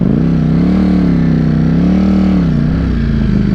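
Ducati V4 Streetfighter motorcycle cruising on a freeway, its engine a loud, steady drone whose pitch rises and dips slightly, with wind rush around it.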